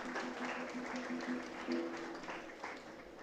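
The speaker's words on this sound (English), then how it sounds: "Let us welcome our graduates with a big round of applause." Audience applause welcoming graduates at a 2023 graduation ceremony, a soft, distant wash of clapping that swells briefly and then fades.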